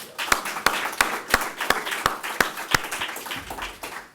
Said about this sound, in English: So a big round of applause for both of them.